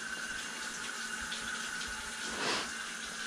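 Water rushes steadily from a hose fitted with a nozzle used for cutting tree roots in a pipe, a continuous hiss with a brief louder surge partway through.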